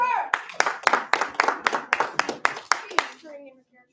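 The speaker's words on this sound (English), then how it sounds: "give him 1 clap, 2 claps" A class of students claps together in a quick, even rhythm, about a dozen sharp claps close by with voices mixed in, trailing off into quiet at the end.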